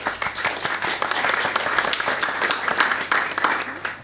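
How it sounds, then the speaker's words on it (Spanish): An audience at a panel discussion breaks into steady applause, many hands clapping densely and evenly throughout, moderately loud and without pauses. "Un aplauso, por favor."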